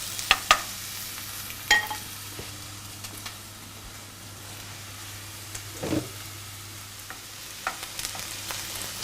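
Chopped onions fry over medium-high heat for Iranian qaliyeh maahi, a low continuous sizzle broken by scattered spoon taps and stirring scrapes, fairly close and without speech.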